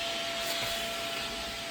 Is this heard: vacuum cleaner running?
yes